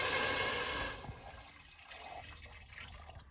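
Home-canned turkey broth pours into a soup pot of carrots, a bright splashing rush for about a second that settles into softer trickling and dribbles.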